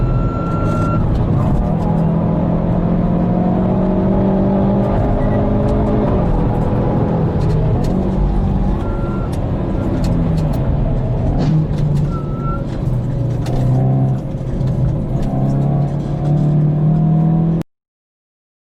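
A Toyota 86 on a race circuit, heard from onboard, its engine droning and revving loudly and continuously with shifting pitch as it works through corners, a voice briefly talking over it before it cuts off abruptly.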